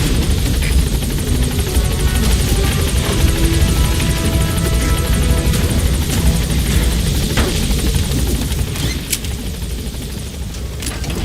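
Military helicopter in the video game Metal Gear Solid V: The Phantom Pain, a loud, steady rotor roar holding throughout with dense low thumping and engine whine, easing slightly near the end.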